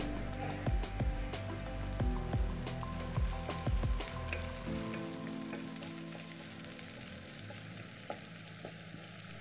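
Curry leaves crackle and sizzle in hot oil in a pan while making poori masala, a dense close frying patter with some stirring that eases off halfway through.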